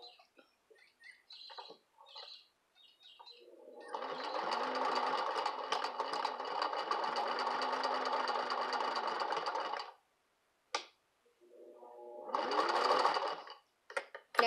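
A 1952 Singer 15-91 sewing machine stitches heavy socks, whirring steadily up close for about six seconds, pausing, then running again in a shorter burst.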